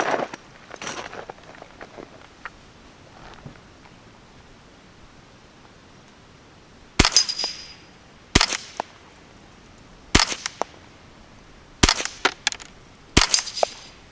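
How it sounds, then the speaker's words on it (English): A Ruger 10/22 semi-automatic rifle fires CCI Quiet .22 rounds outdoors, five sharp cracks spaced about one to two seconds apart after a stretch of quiet rustling and handling noise. "We'll just shoot this and see if it cycles properly."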